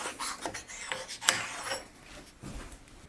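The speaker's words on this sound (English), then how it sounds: "It's not illegal to stone the table of your bandsaw." Sharpening stone rubbed across a bandsaw table, quiet scraping and rasping strokes in an uneven rhythm, with one sharper scrape partway through, close and faint.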